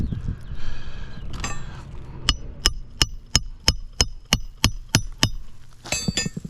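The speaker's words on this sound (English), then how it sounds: "You can hear the grains falling off the roof while I'm nailing." A hammer drives nails into a brittle, steep roof in a fast, regular series of about a dozen sharp metallic strikes, close and loud, with faint grit and scraping noises between and around them.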